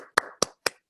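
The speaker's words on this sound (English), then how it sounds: "Let's all applaud Lulu for sharing" Three sharp, close hand claps in quick succession, evenly spaced, each with a brief ringing tail, sounding like one person applauding a participant into a microphone in an online meeting.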